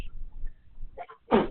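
A student sneezes once, sharp and fairly close, in a quiet classroom during a math lesson, after a moment of faint background noise.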